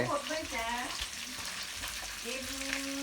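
Pork frying in hot oil, a steady soft sizzle throughout, with faint voices talking quietly in the background.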